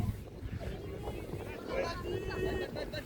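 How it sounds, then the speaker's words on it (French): Wind buffets steadily across the microphone as voices talk over it, with a low rumble throughout. "Un petit peu de vent, pas beaucoup"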